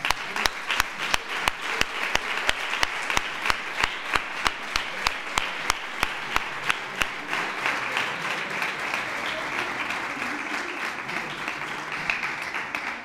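A crowd applauds at a coming-of-age celebration for eighteen-year-olds, starting with rhythmic, evenly spaced claps that dissolve into a sustained, scattered round of clapping before fading.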